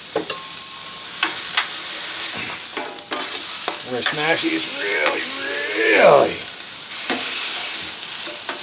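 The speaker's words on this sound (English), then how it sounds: "Boom, you can hear it sear." Loud, steady sizzle of smashed burger patties searing on a Blackstone griddle, with scraping and clanking from a spatula while someone talks over it.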